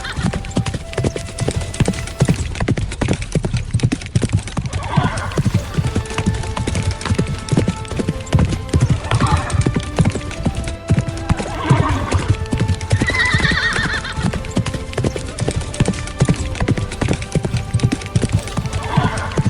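Rapid, steady hoofbeats of a horse clip-clop on hard ground for the whole stretch, with several loud neighs and whinnies rising above the trotting in the middle and later part.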